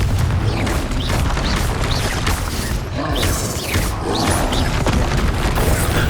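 A Confringo blasting-spell explosion in Hogwarts Legacy, a dense loud booming roar with crashing debris that fills the whole stretch steadily, no speech over it.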